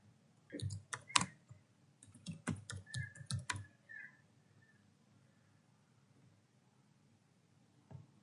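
Quick clusters of clicks and key taps from a computer mouse and keyboard while a document is saved in MS Word, close and crisp in short bursts over about three seconds, then quiet apart from one late click.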